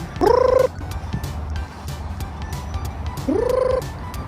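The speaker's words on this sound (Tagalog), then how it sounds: "May manok oh, pang sabong." A fighting rooster crows twice, a few seconds apart, each a rising strained call, with faint outdoor background noise in between, in Singapore.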